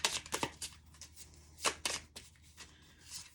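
Tarot cards being shuffled and drawn by hand, a series of crisp riffling and flicking bursts at irregular intervals, close and fairly quiet with no talk.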